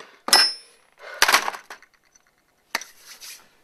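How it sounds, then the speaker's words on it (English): Three separate heavy hammer blows on a computer hard drive, each a sharp crack followed by a short clattering rattle, close and loud with silence between strikes. "just hammer that hard drive"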